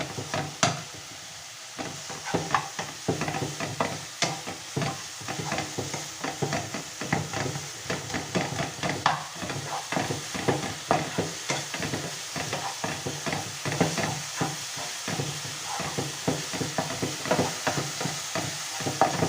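Pabda fish curry with sour tenga mora leaves is stirred in a pan, giving a rhythmic run of close scraping strokes over a low, even sizzle, with no voices.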